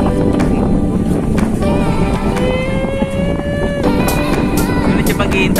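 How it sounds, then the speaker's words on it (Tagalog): Strong wind roars and buffets steadily across the microphone at the Cloud 9 viewpoint in Antipolo, with people talking and calling out over the rushing noise. "Sobrang hangin."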